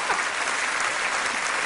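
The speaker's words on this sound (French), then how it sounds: "Ah ben les applaudissements" A studio audience at a comedy show breaks into steady, dense applause, a brief burst of many hands clapping with no voices over it.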